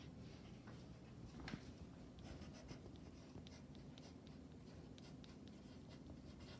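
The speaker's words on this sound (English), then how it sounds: "you can take your pencil and write your name on there" A pencil writing a name on a paper clock worksheet, making faint scratchy strokes in short bursts that recur irregularly against quiet room tone.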